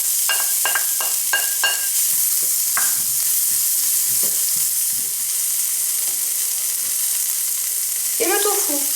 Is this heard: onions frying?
yes